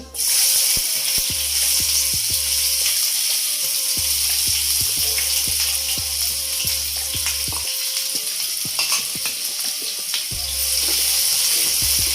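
Onions frying in hot oil for a mushroom curry, a steady loud sizzle with crackling pops and occasional stirring, close up and without any talk.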